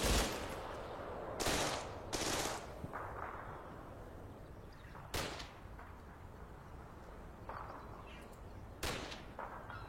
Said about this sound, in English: That should be my mortars starting to come down